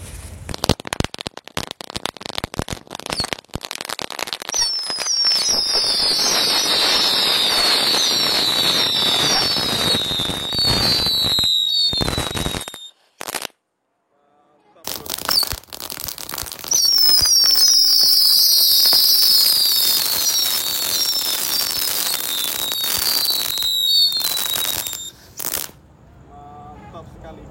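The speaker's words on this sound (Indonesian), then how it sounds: "Oke, kita nyalakan mercon tikus kreteknya 1 bak truk mainan." Mercon tikus kretek firecrackers lit in the bed of a toy truck shriek with whistling, whizzing tones and dense crackling bursts, a loud sustained spray that dies out, then a second long volley follows after a short pause.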